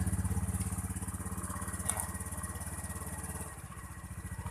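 Honda Beat scooter engine idles close by after starting, a fast even putter with steady pulses and a slight dip in pace near the end.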